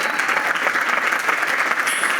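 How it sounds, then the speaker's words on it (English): A theater audience applauds a production crew at a groundbreaking ceremony, a dense, even roar of many hands clapping throughout, loud and close, with no voices standing out. "Give them a round of applause today."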